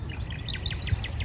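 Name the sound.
birds calling in the countryside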